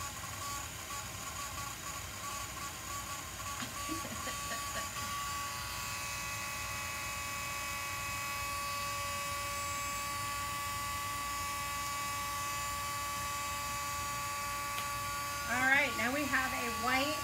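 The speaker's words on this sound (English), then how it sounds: "Get the heat tool." A craft heat tool for embossing blows with a steady electric whir and hum, running continuously at moderate loudness through the whole stretch, with a brief rise near the end.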